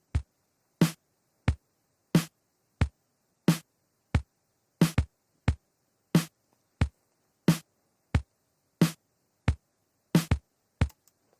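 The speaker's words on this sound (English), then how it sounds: "It's just a kick and a snare drum." A steady kick drum and snare drum beat for a neo soul jazz groove plays alone, with sharp evenly spaced hits at a moderate tempo and moderate volume.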